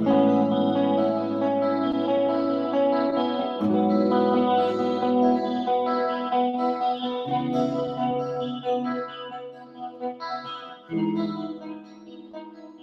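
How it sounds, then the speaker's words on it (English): Sustained electric guitar chords through an amp ring out with a lush, shimmering chorus effect, changing every few seconds and trailing into reverb, with no talking. "if you shove the chorus on as well"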